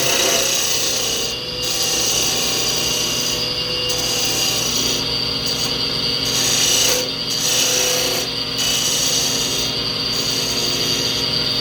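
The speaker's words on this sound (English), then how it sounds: "Using our 1/4-inch beading and parting tool like a miniature skew." A quarter-inch beading and parting tool, used like a small skew, cuts a small wooden piece spinning on a lathe, making a steady close rasping scrape broken by a few short pauses.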